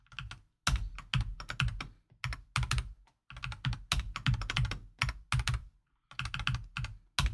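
Rapid bursts of typing on a computer keyboard, crisp close keystrokes in quick runs separated by short pauses, with no talking.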